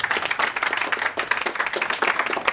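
An audience clapping hands at a cultural experience event: brisk, continuous applause from many people, fairly close and even in loudness throughout, with no talking over it.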